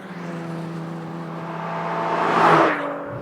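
A naturally aspirated Volkswagen R32 engine revs cleanly, its tone climbing smoothly to a peak and then dropping off, heard alone and fairly close.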